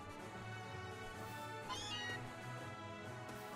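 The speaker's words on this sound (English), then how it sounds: "There's Meowth." Meowth, the cat Pokémon, lets out a brief cry in a Pokémon game, a short meow-like call rising over a steady bed of background music.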